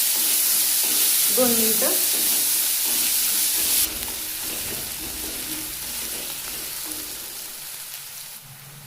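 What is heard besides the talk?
onions sautéing in a pan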